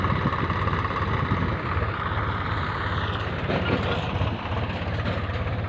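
A tractor engine runs steadily nearby in a farm setting, a loud continuous low rumble with an even throb that holds without a break throughout.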